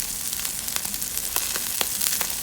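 Onions hiss and crackle on a portable Royal Gourmet two-burner porcelain gas griddle, a close, steady sizzle with scattered sharper pops throughout and no talking.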